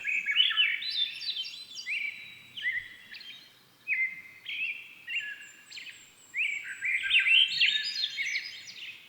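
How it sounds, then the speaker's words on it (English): An olive-backed thrush sings alone in clear, ringing, resonant phrases, rising and falling in short bursts with brief pauses between them, fairly close and distinct, in Spearfish Canyon. "hear the olive-back thrush with its resonant,"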